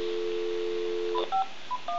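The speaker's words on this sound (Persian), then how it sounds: "و اما اینجا حالا زنگ بزنیم ببینیم" An old telephone gives a steady dial tone, which then gives way to a few short, evenly spaced keypad tones, clear and close, with no one speaking.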